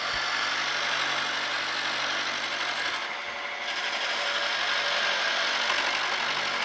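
A fresh cutter works metal on a W. F. & John Barnes treadle lathe, producing a steady mechanical whirring rasp that briefly dips and thins partway through before resuming at full level.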